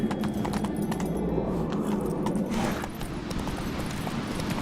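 Hooves of the horse Roach galloping in The Witcher 3: a rapid, rhythmic clip-clop of repeated hoofbeats, close and fairly loud, easing slightly partway through.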